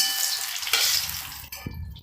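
Cauliflower pieces fry in hot oil, a steady sizzling hiss with occasional utensil clinks and scrapes as they are lifted out of the pan one at a time, heard close up with no voices.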